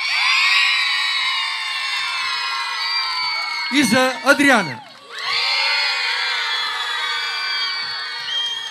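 A crowd at a Bulgarian folk dance competition cheers, whoops and shouts loudly, with children's voices in the mix. The sustained roar breaks off while a presenter speaks briefly over it, then swells again.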